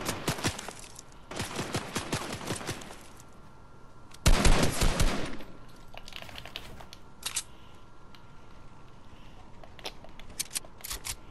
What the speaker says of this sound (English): Oh shoot, somebody shooting.